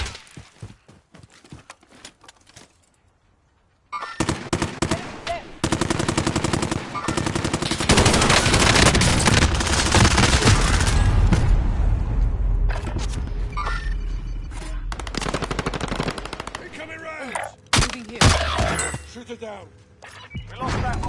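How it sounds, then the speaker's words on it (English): Rapid automatic gunfire from a PS4 shooter video game erupts after a quiet opening, sustained bursts and scattered shots filling most of the stretch, with players talking over the loud action. "Taking fire!"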